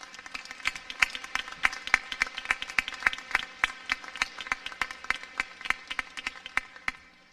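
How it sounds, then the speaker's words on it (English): A commencement audience claps in a steady patter of distinct, closely spaced handclaps that carries on for several seconds, at moderate volume, before easing off at the end. "Perhaps a round of applause is appropriate."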